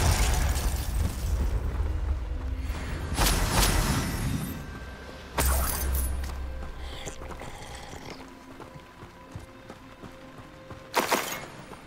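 Confringo explosive spells burst in a Harry Potter video game, three heavy booms spaced several seconds apart, each with a sharp crack and a rumbling tail over a low game backdrop.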